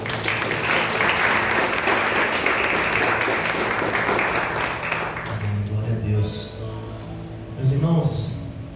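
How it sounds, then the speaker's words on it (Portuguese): Church congregation applauding the Lord during a Portuguese-language sermon, a loud sustained wash of clapping for about five seconds that fades as voices begin speaking. "Aplausos ao Senhor."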